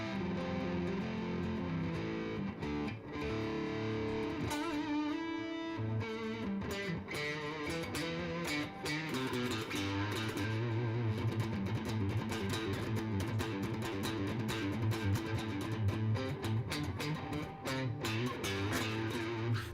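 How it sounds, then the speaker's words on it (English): An electric guitar played with a low-gain, bright tone boosted in the high end strums and picks a busy stretch of chords and notes, loud and continuous without any talking. "Closest thing you can do is what I'm doing right here with a little bit of low gain that's concentrating on a little bit of extra high end"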